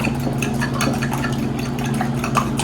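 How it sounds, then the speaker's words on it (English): A fork stirs and mixes seasoned ingredients with black pepper in a bowl, quick repeated scraping and tapping clicks over a steady low hum from the kitchen. "with the fork, we're just gonna mix it together"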